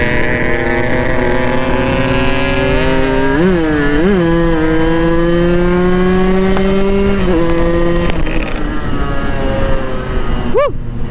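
A motorcycle fitted with an underslung exhaust pulls away under hard acceleration, its loud, steady engine note rising in pitch in a couple of surges and then holding near the microphone, with faint wind noise.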